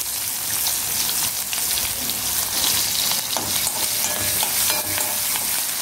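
Chopped onion stir-fried in a pan while cooking a red-stemmed spinach koottu, a steady close sizzle with stirring scrapes running throughout, no talking.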